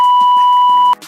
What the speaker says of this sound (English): leave your question at the sound of the beep